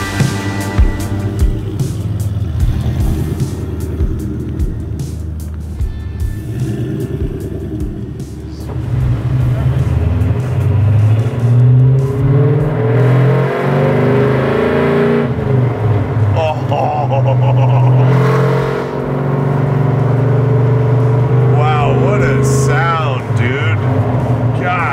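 Supercharged 5.4-liter, 800 hp 1967 Ford Mustang engine rumbling and rising in revs while cruising on the street, heard from inside the car under ongoing conversation.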